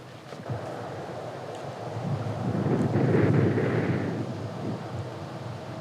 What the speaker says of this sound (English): Sounds like the wind is ripping here, too.